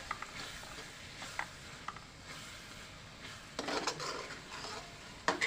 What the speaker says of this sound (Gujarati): આપણે હળદર નાખીને પાછું મિક્સ કરી લઈએ